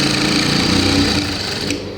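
Sewing machine stitching a 4-inch folded hem on an L size nighty, a steady close whirring drone running continuously and easing slightly near the end, with no talk.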